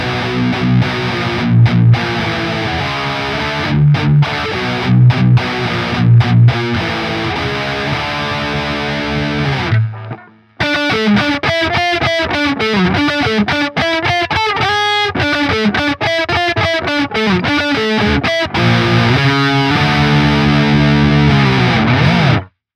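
Heavily distorted electric guitar, a modern Flying V with its bridge pickup, played through an effects unit: chunky palm-muted riffs, a brief pause near the middle, then loud sustained chords and lead lines, with no talking.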